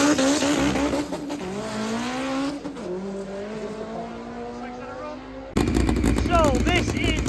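A front-wheel-drive Vauxhall Nova race car, apparently overheating after problems, revs its engine hard and loud with rising and falling pitch, then the sound cuts abruptly to a sharper, crackling burst of revs.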